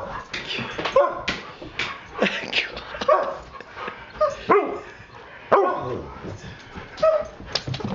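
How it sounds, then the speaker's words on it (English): Siberian husky dogs bark, yip and whimper outdoors in irregular bursts, close and fairly loud, with a person talking intermittently between them. "You don't know what you're barking at, Lena."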